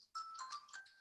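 A phone rings once during a conversation, giving a brief, faint electronic jingle of a few bright tones that lasts about a second, alone without voices.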